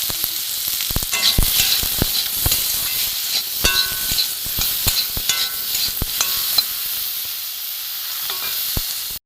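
Potatoes frying in oil until browned, a continuous crackling sizzle punctuated by frequent sharp spatters and clicks of a spatula against the pan, fairly close and loud, no talking.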